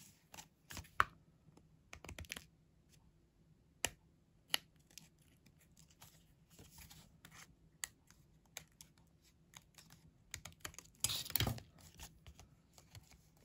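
Paper card is trimmed with scissors, giving scattered sharp snips and small crisp cuts spread apart, with a longer rustling burst near the end, all faint and close against a quiet room.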